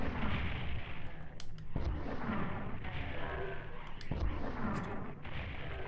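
Booming gunshots from the PSX Doom Lost Levels game, played on an Xbox One controller, fire in a rough rhythm of heavy blasts with echoing decays, while a voice talks faintly underneath.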